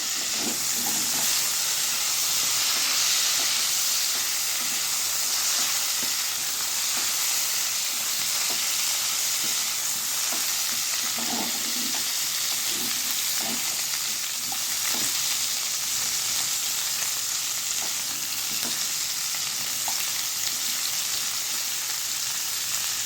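Potato, cauliflower and tomato for a rui fish curry fry in oil in a pan, giving a continuous soft sizzle and hiss with scattered small pops and stirring scrapes, moderately close.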